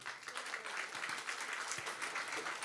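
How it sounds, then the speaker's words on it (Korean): A church congregation applauds together, a dense patter of many hands clapping steadily for a few seconds, soft and somewhat distant. "박수 한번 해주십시오."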